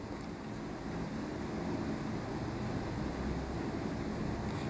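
A pot of beef nihari made with beef trotters simmers on a stovetop, giving a steady low rumbling bubble that stays continuous and fairly loud, with no voices.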